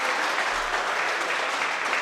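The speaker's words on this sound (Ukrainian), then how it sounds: "Аплодують йому, аплодують йому глядачі, аплодують йому болівальники" Spectators at a super-lightweight boxing match applaud a fighter with a loud, dense wash of clapping that carries steadily from start to end.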